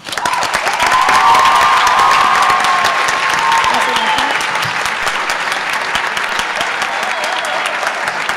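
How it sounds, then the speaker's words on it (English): Guests at a Lawrence High School National Honor Society induction ceremony give a sustained round of applause, with dense clapping that swells quickly and holds steady throughout, plus faint crowd noise underneath. "may the guests please give the National Honor Society a round of applause"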